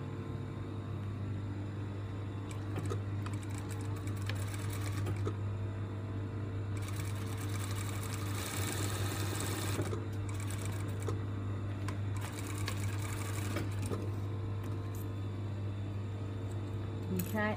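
Sewing machine running steadily as it stitches a garment facing to its lining along a 1 cm seam allowance, a continuous close mechanical whir with a low steady hum, heard alone without speech.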